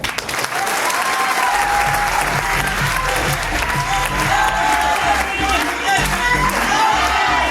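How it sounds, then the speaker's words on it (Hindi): Sustained applause from a seminar audience at the close of a motivational training session, steady dense clapping with some cheering voices mixed in, loud and continuous throughout. "ताली बजा लो।"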